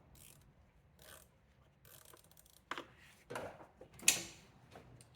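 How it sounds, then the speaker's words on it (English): A torque wrench with a 10 mm socket tightens valve cover bolts on a 2002-or-later Mini Cooper, giving short, faint bursts of ratcheting clicks spaced by pauses, with one sharper metallic tick near the end. "coming back with my 10 millimeter, torque these to a 10 Newton meters"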